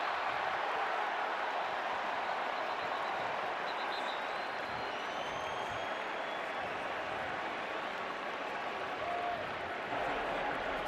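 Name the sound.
sold-out stadium crowd noise at Kinnick Stadium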